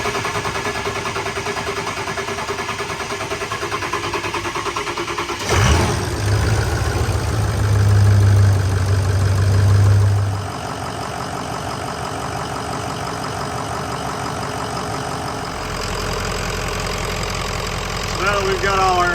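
A diesel engine is cranked after its fuel system is primed and the air bled out, then turns over and rumbles louder for a few seconds before settling into a steady idle, close to the microphone.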